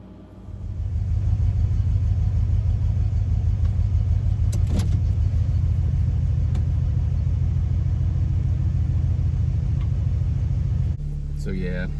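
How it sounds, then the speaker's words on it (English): Truck engine running roughly at idle, a heavy low rhythmic rumble with a pulsing, uneven beat, close and steady for about ten seconds before dropping off, with no talking over it. "truck not running right, idling weird"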